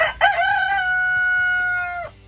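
A rooster crows once, loud and close, a long drawn-out call with a sharp start that holds steady before cutting off.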